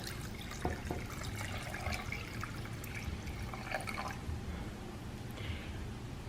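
Warm water pours into a bowl of flour, sugar and pumpkin puree for bagel dough, a soft continuous trickle with scattered drips and splashes, close and quiet.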